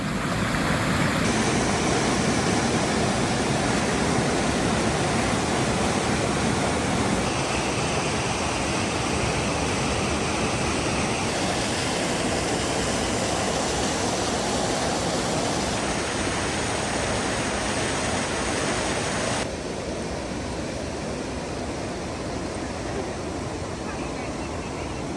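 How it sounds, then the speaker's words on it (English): Waterfall on Dunbar Brook, a loud, constant broadband rush of falling water, close and unbroken, with a slight drop in level near the end. "you're going to start running along Dunbar Brook. And this is worth a stop because there's a beautiful waterfall here."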